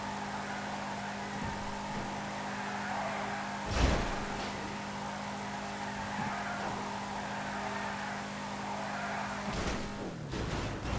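A car in GTA 5 drifting sideways using an all-wheel-drive drift glitch, a steady engine drone with tyre squeal and skidding swelling briefly, plus a sharp thump midway and another burst near the end.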